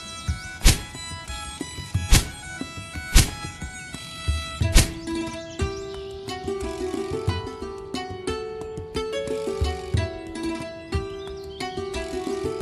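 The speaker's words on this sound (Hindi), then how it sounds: "लकड़हारा जल्दी से लकड़ियां काटकर अपने गधे पर लाद लेता है" Four sharp, hollow thunks like an axe biting into wood, spaced about a second apart, then music with plucked notes takes over.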